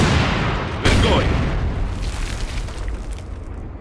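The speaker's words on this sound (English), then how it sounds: "Being shelled." Artillery shelling in Company of Heroes 2, a heavy boom near the start followed by a long rumbling roar of blast and debris that slowly fades, loud and close.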